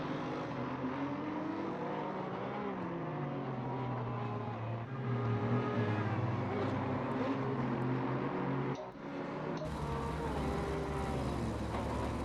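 Aston Martin GT3 race car lapping Zolder in a racing video game, its engine droning loud and steady with shifting revs and gear changes throughout, a brief dip near the end before the tone jumps brighter.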